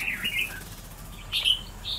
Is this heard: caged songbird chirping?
yes